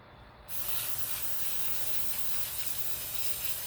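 Flex Seal liquid rubber sprays from an aerosol can held close to a welcome mat design, a loud, steady hiss that starts abruptly and runs continuously without a break.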